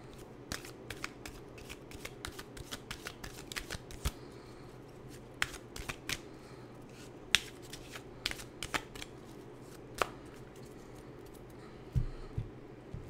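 Animal oracle cards are shuffled by hand in a quick series of crisp, papery riffles and snaps, close and fairly quiet, with short pauses between bursts and no talking.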